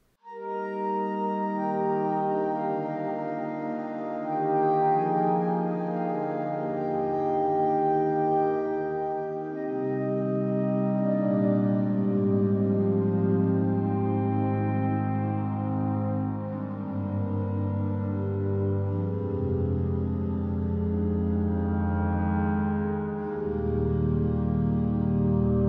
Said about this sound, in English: it really sounds like a very authentic pipe organ that's playing in a church